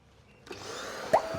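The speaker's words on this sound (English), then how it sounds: "Do you want to start the vacuum up?" A vacuum switches on partway through and quickly rises to a steady, loud whine and rush, used to suck a new bee swarm and its comb out of a pool pump housing; a brief knock lands near the end.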